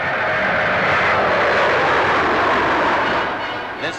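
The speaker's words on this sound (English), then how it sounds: "This 50-seater medium-range airliner with a cruising speed of 312 miles an hour is powered by 4 turbo-propeller engines." A Vickers Viscount 700 turboprop airliner with four turbo-propeller engines flies past at the Farnborough airshow, a loud steady engine roar that fills the whole stretch and eases slightly at the end.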